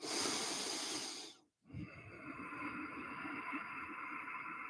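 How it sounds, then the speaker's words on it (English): Slow breathing during throat chakra practice: a long, hissy breath, a brief silent pause, then another steady breath that sounds close and soft with no talking. "we're listening to our breath"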